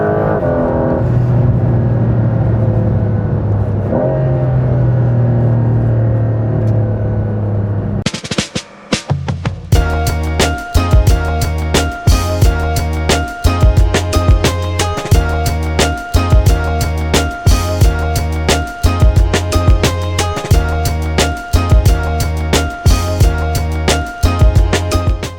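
A 2025 Porsche 911 Carrera 4 GTS hybrid engine pulls hard, first a steady lower drone, then a sudden loud surge into a rapid, rhythmic high-revving roar that keeps pulsing through repeated gear pulls, close and alone with no talk.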